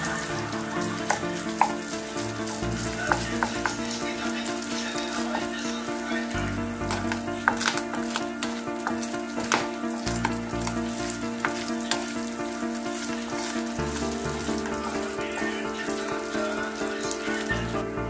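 Pork giniling sisig cooking in oil in a pan, with a continuous moderate sizzle and occasional sharp pops and spatters, a low background hum underneath and no voice.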